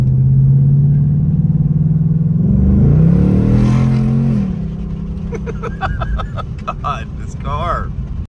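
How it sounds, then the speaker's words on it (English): A 2024 Ford Mustang GT Performance V8 in track mode idles with a deep, steady rumble, swells into a loud rising rev and falls back to a burbling idle, close and alone. "this car is still one of the best sounding from the factory"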